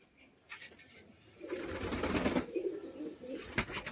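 Pigeons coo in low, throaty bursts nearby, with soft rustling and a few sharp knocks around them.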